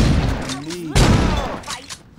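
Shotgun gunfire in the Saints Row 2 video game, one sharp loud blast partway through, with game voices and clatter around it and fainter pops after.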